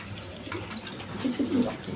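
A pair of Rasgolla pigeons for sale coos softly in a few low, rounded calls near the end, over a faint background hum with no clear talk.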